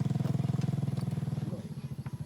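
Motorcycle engine putting along a forest trail, a steady rhythmic throb up close, with a voice speaking over it.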